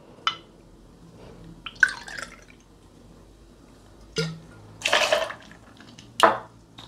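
Passoa passion fruit liqueur is poured for a cocktail in short separate bursts, with small drips and clinks of glass between quiet gaps, close and fairly soft.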